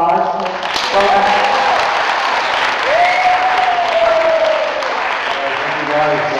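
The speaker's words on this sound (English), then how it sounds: "can everybody give Mr. Hassan a round of applause?" A classroom of sixth-grade students gives a round of applause for a lecturer, clapping steadily throughout. Voices and whoops rise over the clapping.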